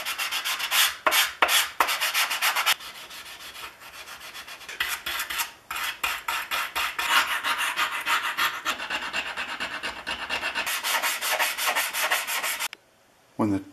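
Hand scrubbing of an old Stanley plane iron from an aluminum duplex filletster and rabbet plane, with close, loud continuous rasping strokes in bursts and short pauses, ending in near silence.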